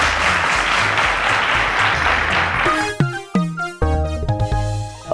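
A studio audience at a televised maths quiz final applauds in a thick, loud burst for nearly three seconds, then the clapping gives way to a bright musical sting of struck tonal notes and chords.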